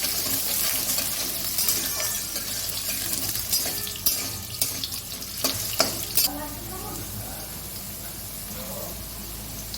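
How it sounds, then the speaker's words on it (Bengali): Potatoes fry in a pan for a light summer vegetable dish, giving a steady close sizzle and hiss with a few sharper clatters of stirring partway through and no talking. "আলুগুলো একটু ভালো করে ভেজে নেব।"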